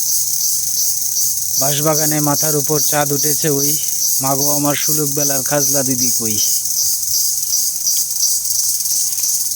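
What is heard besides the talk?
crickets chirping near a bamboo grove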